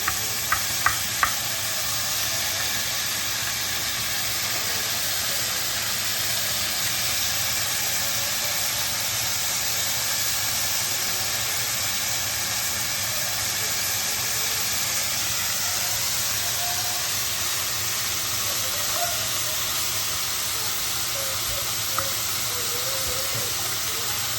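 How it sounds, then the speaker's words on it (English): Pieces of steak searing in a hot pan with oyster sauce and soy sauce, giving a loud, steady sizzle and hiss close by, with a few sharp clinks at the start. "the oyster sauce and the soy sauce hitting the pan"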